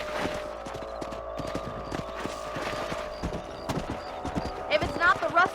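Horse hooves clip-clopping in the Red Dead Redemption game on Xbox 360, a steady rhythmic run of close hoofbeats with a brief whinny near the end, under faint game ambience.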